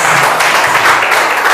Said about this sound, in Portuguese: Vamos receber com palmas, amém?